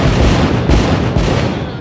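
Fireworks going off in a video game's celebration scene, a dense continuous crackle and rumble with a few heavier booms standing out, loud and close throughout with no talking.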